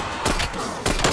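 Two short bursts of loud, close gunfire in Call of Duty Cold War Zombies, each a rapid cluster of shots separated by a brief pause.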